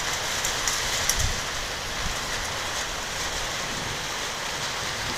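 Steady heavy rain pours down in a dense, continuous hiss, with a few brief louder spatters near the start and no voices.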